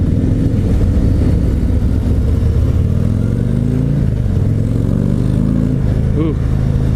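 A 2022 Harley-Davidson CVO Road Glide with the 117 engine runs steadily at low throttle, a loud, continuous near rumble with slight pitch swells, under wind noise and someone talking.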